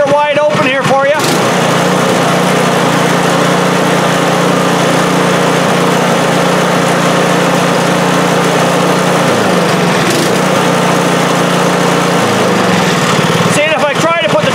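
A small snow blower engine treated with Seafoam runs wide open without the choke, a loud, steady high-pitched drone filling the whole stretch with a slight dip in pitch near the end, close by and alone.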